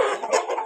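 Egg-laying hens in a sand-floored coop cluck softly and briefly in a short, close burst.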